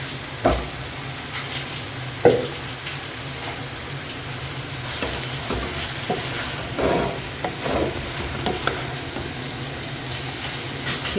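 Marinated white qeema, a minced meat dish, fries in a hot pan with a steady, moderate sizzle, punctuated by scattered clinks and scrapes from stirring, heard up close with no talk.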